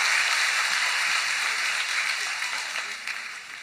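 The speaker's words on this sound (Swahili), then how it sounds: "Situmpigie makofi mazuri, amefanya kazi mzuri." Church audience at a talent workshop applauds a young girl, a dense wash of clapping from a crowd that starts full and gradually thins and fades over a few seconds.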